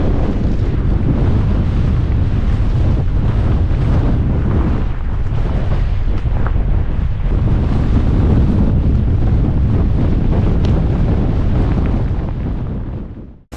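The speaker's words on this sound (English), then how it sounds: "Ooh, brr, it's cold. Super windy too." Strong, gusting wind in the mountains on a cold night during a walk with a dog buffets the microphone as a loud, continuous roar for the whole stretch, with no talk.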